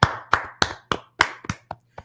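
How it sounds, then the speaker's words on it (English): A church congregation claps its hands in roughly eight sharp, close claps at a steady, slightly slowing rhythm, the last few softer. "Let's clap it up for the Lord."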